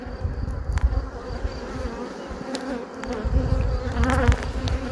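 Agitated honeybees swarm around an opened hive during a transfer from nucleus boxes to full hives, a dense close buzzing that swells and fades with no talk.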